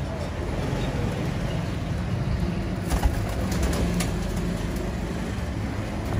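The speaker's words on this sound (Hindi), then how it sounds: "ये परिंदे हैं सारे माशाल्लाह बेहतरीन परिंदे, अच्छे परवाजी परिंदे" Pigeons coo softly from a loft of pedigree flying birds, with low, steady cooing and some bird calls set against a constant background hum and faint traffic.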